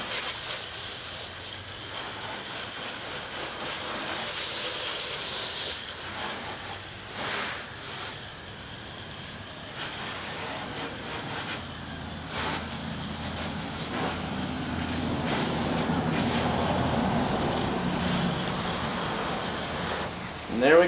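Eagle One Evolution pre-soak sprayed onto a 2001 Honda Prelude wheel, repeated hissing spray bursts over about twenty seconds with rubbing and handling noises between them, fairly close.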